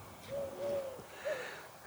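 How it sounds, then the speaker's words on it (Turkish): A turtle dove coos softly a few times, low mellow notes in a short phrase, set against faint background ambience at a beach in Davutlar on Turkey's Aegean coast. "Kumru sesleri arkadaşlar güzel."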